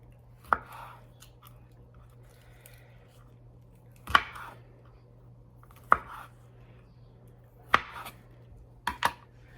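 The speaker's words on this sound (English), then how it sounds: "And I am going to cut off that little part" A knife chops sharply on a cutting board, trimming the ends off peeled food, five separate strikes with pauses between them, the last two close together, over a low steady hum.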